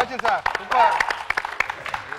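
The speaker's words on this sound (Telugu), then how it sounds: "గట్టి క్లాప్స్ కూడా అందరూ." Several sharp claps ring out, mixed with voices talking and calling out briefly over them.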